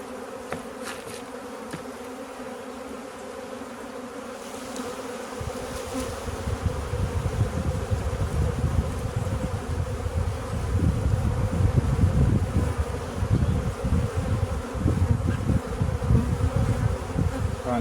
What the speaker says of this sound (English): Good healthy bees.